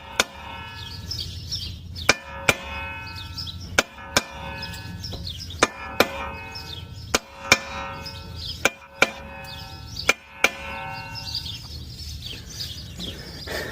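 Sharp metallic hammer blows strike a brake rotor on a 2019-or-later INFINITI QX50 to knock it loose, about a dozen loud ringing impacts at irregular intervals with steady background noise between them.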